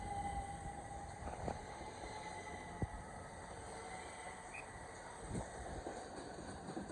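A Class 375 electric train runs past at Tonbridge station, a steady loud rumble of wheels on rail with a few sharp clicks and a faint high whine throughout, no talking.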